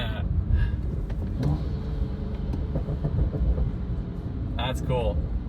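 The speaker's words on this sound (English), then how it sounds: "we're getting all kinds of turbo noises now" Turbo whooshes and flutter from a BMW F30 with an N55 engine and a performance intake, heard through a loud, steady drone of engine and road noise. A voice talks over it and exclaims at times.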